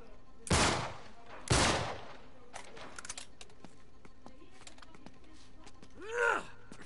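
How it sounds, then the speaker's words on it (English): Two loud gunshots at a lock in Uncharted: Drake's Deception, close and sharp about a second apart, followed by quieter clatter and a brief groan-like sound near the end. "Back up, I'll shoot the lock."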